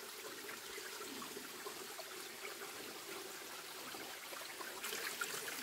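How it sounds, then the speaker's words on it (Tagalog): A steady, faint trickle of water runs along a small creek on a farm, a continuous low rushing with no pauses. "tuloy-tuloy ang daloy ng tubig dito sa sapa"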